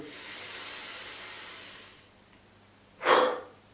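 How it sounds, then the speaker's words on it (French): Slow breathing during a relaxation exercise: a long soft inhale through the nose, a pause, then a short, strong breath out through the mouth, close and alone. "On inspire par le nez, on monte les épaules. On expire par la bouche."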